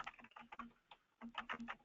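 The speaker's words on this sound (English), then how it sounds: "You can do old school, just typing" Fingers type on a computer keyboard in quick, uneven bursts of clicks with a short pause midway, close and fairly quiet, with no talking.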